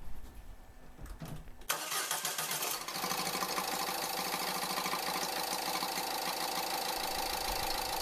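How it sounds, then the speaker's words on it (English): Ford Fiesta 1.4 TDCi diesel cranks briefly after an oil change, then catches and settles into a loud, steady clattering idle heard close up. "You may find, like I did, that the engine is quite noisy when it first starts up"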